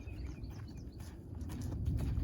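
A young horse walks on a long line during its first training session, soft hoof steps thudding over a low rumble of outdoor background noise, with no talking.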